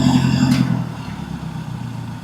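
A truck's engine hauling a heavy load on a rocky, uneven road, a deep, loud motor drone with a strong rising whine that drops away after a moment and settles into a lower, steady rumble.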